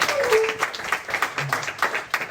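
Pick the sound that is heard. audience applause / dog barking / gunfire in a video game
audience applause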